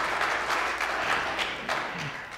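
A church congregation gives a short burst of applause, moderately loud, with a few distinct claps poking through before it starts to fade.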